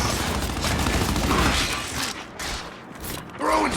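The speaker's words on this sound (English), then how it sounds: "Enemy fire!" Enemy gunfire in a video game crackles as a dense, busy stream of shots and mechanical clatter with booming hits, loud and continuous under game noise with voices.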